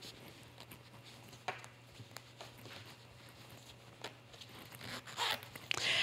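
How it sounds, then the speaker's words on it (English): A zipper being pulled open on a sewn cork-panel bag, heard close up as a quiet, irregular run of small ticks and rasps that grows louder and denser toward the end. "the last step is now to go to the other side to fully open the zipper."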